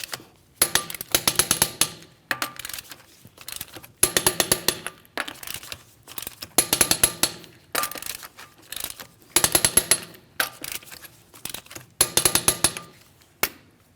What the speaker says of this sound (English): We're going to torque these to that 100 foot-pounds in a crisscross manner.